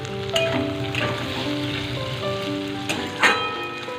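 Onions dropped into hot oil in a pan for Bengali-style chicken curry crackle and sizzle loudly and steadily up close, with a few sharp spits and pops along the way and no one speaking.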